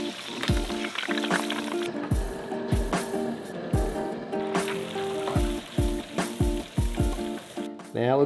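Pond fish frying in a hot pan, giving a steady loud sizzle with crackles and pops close up, plus repeated thumps and scrapes as pieces are moved around.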